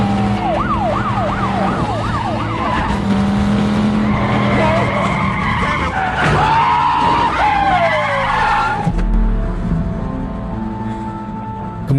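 Film car chase with police sirens wailing and tires screeching through repeated skids, engines revving under a busy, loud mix that ends abruptly with a thud.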